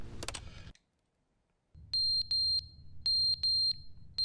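A smoke alarm in The Stanley Parable game chirps repeatedly, a series of loud, high, short electronic beeps in pairs after a brief noisy burst and a stretch of silence, with no talk.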